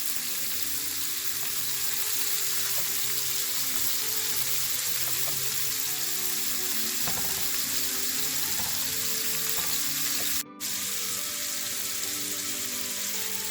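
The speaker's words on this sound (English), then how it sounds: "we're going to flip over the shrimp and cook it on the other side" Shrimp frying in a pan over a medium-low flame, a steady close hiss and sizzle with faint crackle throughout, broken by a brief moment of silence near the end.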